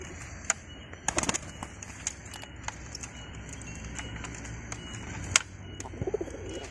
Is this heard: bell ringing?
no